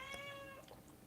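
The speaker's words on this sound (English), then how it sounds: "She comes out and rubs up against the dog, and then she meows." A house cat gives a single faint, drawn-out meow with a clear tonal pitch, quiet and alone in a calm indoor room.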